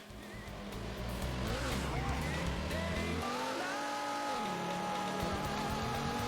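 Race car engine in the arcade game Daytona USA, a loud continuous drone with rising and falling pitch as the car shifts and corners, mixed with tire and road noise, under someone talking.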